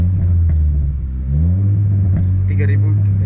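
A Honda Jazz GE8 engine holds a steady idle-to-revving hum around 2500 rpm, a continuous low drone that rises slightly midway, heard close from inside the car with people talking over it.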